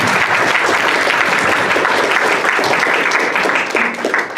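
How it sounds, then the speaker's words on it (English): Sustained, loud audience applause fills the room for a panel of women in STEM students, dense clapping that holds steady and thins slightly toward the end. "we get a round of applause for the panel"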